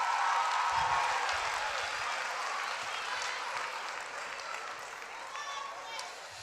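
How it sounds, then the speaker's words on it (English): A seated audience claps steadily for three John Marshall High School student leaders at a Say Yes Cleveland announcement event. The applause is dense and fairly loud, fading slightly over the clip, with some low thumps under it. "Give another round of applause to our 3 student leaders from John Marshall High School."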